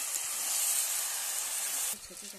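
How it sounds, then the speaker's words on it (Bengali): Chicken pieces sizzling in a pan while being sautéed for a Bengali chicken curry, a steady close hiss that drops off sharply near the end. "মাংসটা দেওয়া হয়ে গেছে, এবার ভালো করে কষিয়ে নিচ্ছি"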